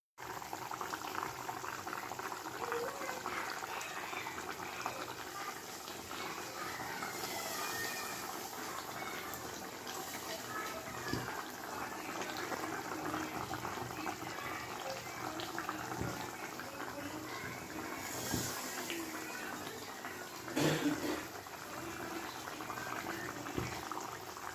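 Curry with potatoes simmers in a covered pot of water, giving a steady, close bubbling and hissing boil that runs without pause from start to end.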